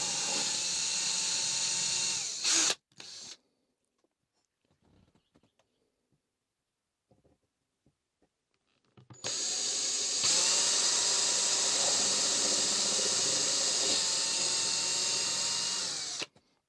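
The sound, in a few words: drill making 3mm pilot holes in a van tabletop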